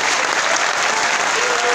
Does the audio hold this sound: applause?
yes